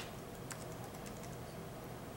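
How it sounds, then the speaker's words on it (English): Someone types a search on a computer keyboard at a Bloomberg terminal, a quick run of light, faint key clicks in an irregular rhythm against a quiet background hum, with no speech. "You could actually type in the word Russell"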